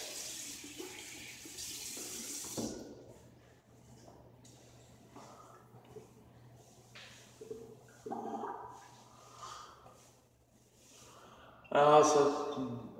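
Water from a tap running in short intermittent bursts during handwashing, fairly faint and close, with a louder gush near the end and a voice speaking in the background.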